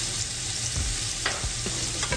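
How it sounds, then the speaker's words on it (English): Seasoned meat for a spicy three-bean, three-meat chili sizzles steadily in a pan while being stirred, with a few scraping knocks of the spoon against the pan, close and alone. "give that a stir to coat."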